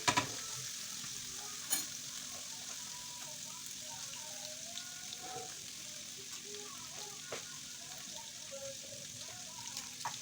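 Minced garlic fries in a pot while being stirred, giving a faint, steady sizzle with a few soft scrapes and one or two louder knocks near the start.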